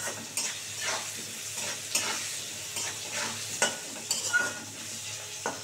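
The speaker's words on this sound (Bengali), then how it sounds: "এবার আলুটা খুব সুন্দর করে ভাজবো" Potatoes with a little turmeric fry in a pan, a steady sizzle broken by repeated scraping strokes of a spoon stirring them, close and moderately loud with no talk.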